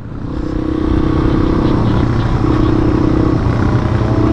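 Motorcycle ridden fast on a group memorial ride, a loud, steady engine roar with wind rush right at the rider, sustained throughout with slight shifts in tone.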